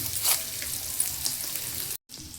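Ingredients for a paneer masala curry fry in hot oil, giving a loud, close, continuous crackling sizzle that cuts out abruptly for a moment and then resumes.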